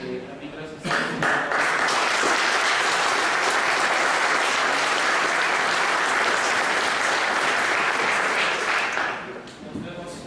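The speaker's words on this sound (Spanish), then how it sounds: "darle un fuerte aplauso al doctor Francisco" A conference audience gives a doctor a strong round of applause, a brief voice preceding the clapping, which swells quickly, holds thick and steady for about eight seconds, then fades as a voice returns.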